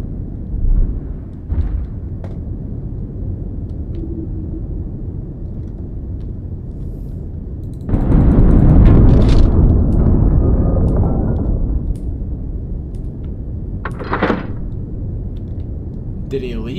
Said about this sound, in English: It looked like the explosions were hitting them from that left-hand side.